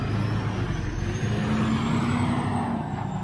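An 18-wheeler truck pulls away on a roadside near the Appalachian Trail, its engine rumbling loud and close with a steady low drone and a faint high whine, no voices.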